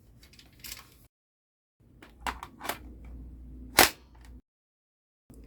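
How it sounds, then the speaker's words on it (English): A magazine is loaded into an M4S gel blaster, a hard-plastic blowback toy gun holding gel beads, giving a series of close plastic clicks and rattles that end in one sharp snap as it seats, with silent pauses between. "So now I'm gonna insert the magazine."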